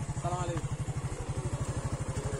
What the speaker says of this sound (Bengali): এখন আমরা হয়তো আবার বাইকে উঠতেছি